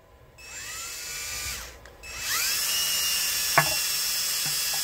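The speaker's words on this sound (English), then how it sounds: "what I'm going to do is watch that oil pressure, and I'm going to spin the drill." A power drill spins an engine's oil pump to build oil pressure, a high whine that starts, dips briefly, then resumes steadily, with a faint click near the end.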